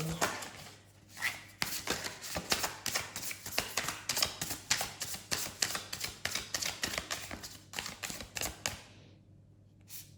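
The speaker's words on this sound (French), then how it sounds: "Je remélange pour la seconde ligne" Tarot cards being reshuffled by hand for a second row in a monthly reading, a run of quick, close, crisp riffling slaps and flutters repeating steadily for several seconds before fading out.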